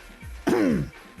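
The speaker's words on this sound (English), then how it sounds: "I'm humiliated by my stupid cough" A single harsh throat-clearing cough from a streamer, loud and close, over a faint quiet room background.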